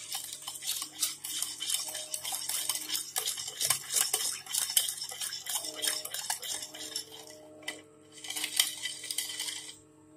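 A spoon whisks sugar, a spoonful of refined oil and flour into a batter for an eggless chocolate lava idli cake, with a busy, steady run of scraping clinks against the bowl and a brief pause near the end.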